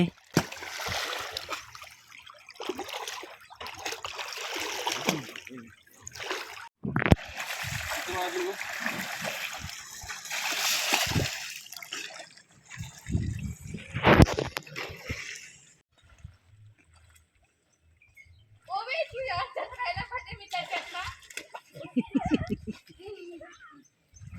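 Children splash in a swimming pool on a hot day, with bursts of water sloshing and splatter mixed with lively chatter and voices throughout, then a brief lull before talking resumes.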